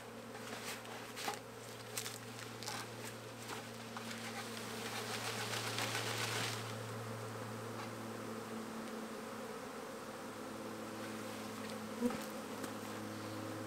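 Swarm of honey bees gathered on a tree branch, a dense droning buzz with individual bees zipping close past, steady throughout and swelling briefly before settling into a continuous hum.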